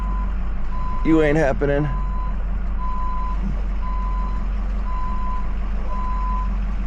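A shuttle bus reversing nearby sounds a steady series of evenly spaced high beeps over low engine rumble, while someone briefly speaks near the start.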